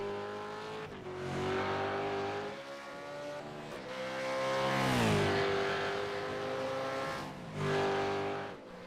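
Supercars race at Montreal in iRacing, the engines loud and close as they rev and shift. The pitch climbs, drops and climbs again in repeated accelerations across several gear changes, with no talk over it.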